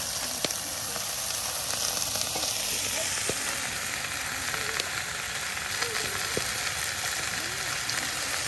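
Washed pui shak (Basella) seeds sizzling steadily in a hot pan on a stove, a constant frying hiss with occasional faint clinks of stirring, no talk.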